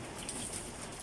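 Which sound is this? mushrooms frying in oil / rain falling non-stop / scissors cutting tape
rain falling non-stop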